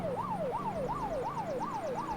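A fire truck siren from the video game Unturned wails in a fast repeating up-and-down sweep, loud and steady with a faint engine rumble beneath and no talk.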